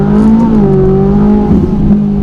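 A Ferrari 458 fitted with a Capristo exhaust revs loudly and up close, its engine tone climbing and falling in steady harmonic sweeps with no talking over it.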